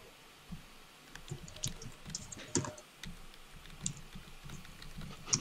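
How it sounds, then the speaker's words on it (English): Fast, uneven tapping on a computer keyboard, quiet and close, with scattered sharper key clicks over a soft room background. "I'm having such a hard time typing."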